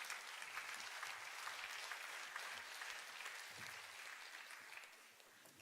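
A very faint, distant wash of audience applause for a conference panel on women in technology, many claps blurred into a steady hiss that slowly fades toward the end.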